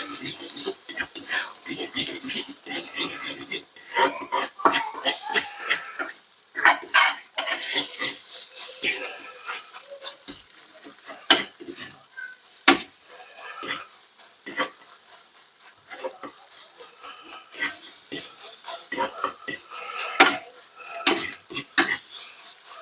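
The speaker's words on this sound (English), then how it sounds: "So I'm making scrambled eggs." Beaten eggs stirred in a pan for scrambled eggs, a utensil scraping and clinking steadily against the pan in busy, close bursts with faint frying beneath, no talk.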